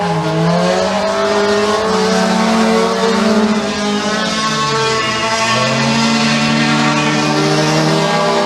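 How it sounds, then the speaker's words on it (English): Kids' mini stock race cars roar around a dirt track at McKean County Raceway, several engines droning and rising and falling in pitch as they pass, loud and continuous. "Off of turn number 4 onto the front straightaway, 2 more times around for the race leader of Braden Williams."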